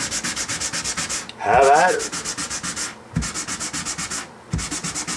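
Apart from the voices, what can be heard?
sanding a Fender Jazz Bass body with sandpaper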